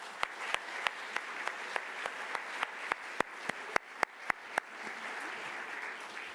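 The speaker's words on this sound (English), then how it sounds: "I think we should give them a round of applause" Audience applause at a scientific workshop plenary session, a moderate wash of clapping with several sharp, loud individual claps standing out near the microphone, sustained across the clip.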